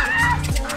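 A person imitates a duck with a single short, nasal quack, loud and close.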